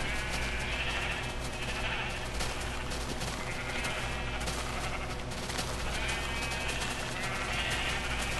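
Sheep bleating in a video game in repeated calls over a dense, noisy background, several bleats spaced a second or two apart at moderate distance.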